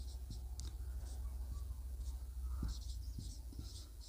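Chalk or marker writing on a board during a math proof, faint short scratches and light taps in an irregular rhythm over a low background hum, heard alone with no talking.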